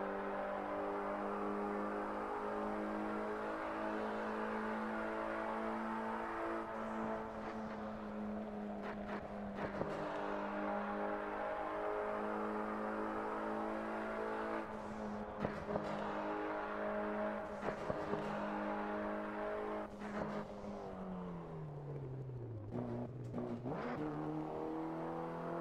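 Race cars in Assetto Corsa Competizione howl continuously from close by, the engine pitch holding steady, then dropping sharply under braking and climbing again, with short bursts of noise from shifts and contact and no talking.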